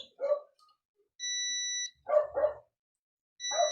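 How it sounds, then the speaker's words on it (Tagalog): A multimeter set to continuity buzzer mode, used while checking a house circuit breaker, gives two steady high electronic beeps, each lasting under a second, between bursts of a dog barking close by. "yung tester ay iset nyo sa continuity or buzzer"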